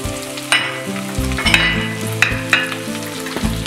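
Onion, green chili and ginger sauté in a hot oiled pan for a Kerala fish molee, a steady close sizzle broken by several sharp stirring scrapes and clatters, no voices.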